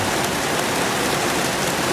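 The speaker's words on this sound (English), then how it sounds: "look at there, thunder, tons of rain." Heavy rain pouring down on a garden, a dense, loud, unbroken roar of rainfall close by with no other sounds.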